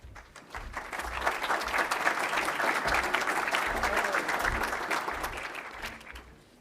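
Lecture-hall audience applauding as the Lennart Meri lecture introduction begins, a dense, steady wash of many hands clapping that swells quickly, holds for several seconds, and fades near the end.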